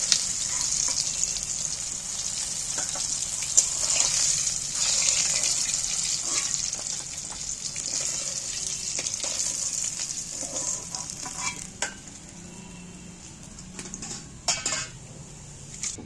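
Hilsa fish pieces frying lightly in oil in a pan, a steady bright sizzle throughout with occasional clinks of a utensil against the pan and soft stirring noises, no talk.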